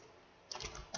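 A short flurry of keyboard typing sounds as a few soft key taps after a moment of quiet room tone, close but faint.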